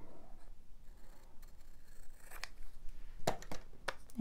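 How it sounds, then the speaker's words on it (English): Paper tears down the middle in a soft, drawn-out rip, followed by a few sharper crackling bursts near the end, quiet and close with no talking. "Rip it down the middle."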